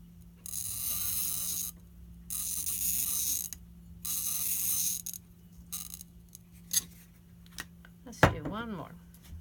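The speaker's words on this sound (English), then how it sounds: "you want the cutter to go in that dip so you get a nice consistent score" A bottle cutter's wheel scores a glass bottle in long, gritty scraping passes, about four sustained strokes with short pauses between, followed by a few sharp clicks and a brief ringing glassy tone near the end.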